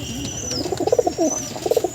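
Pigeons cooing close by, a series of soft, rounded rolling coos in quick bursts, with a faint whistle-like tone in the background.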